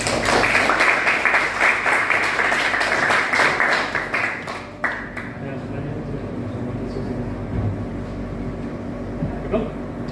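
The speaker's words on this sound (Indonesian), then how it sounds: "Aplaus." Audience at a presentation claps steadily for about five seconds, a dense, fairly loud round of applause that fades into room murmur.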